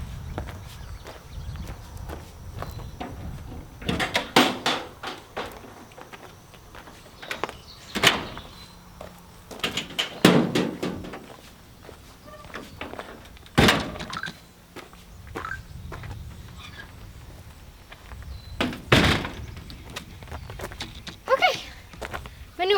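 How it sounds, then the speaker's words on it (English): Barn doors swinging shut in a new horse barn, sounding as several loud wooden thunks and bangs with rattling, spread among shuffling, footsteps and hoof clops, close by. "So let's shut the doors."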